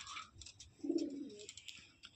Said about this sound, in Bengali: তো চলো পায়রাগুলোকে তোমাদের দেখাই